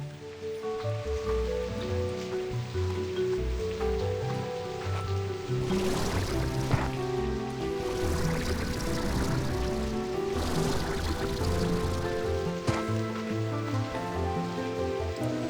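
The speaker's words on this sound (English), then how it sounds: "It's just rain." Rain in the video game Slime Rancher 2, a continuous hiss of falling water and splashing under layered game music, with a steady loudness across the whole stretch.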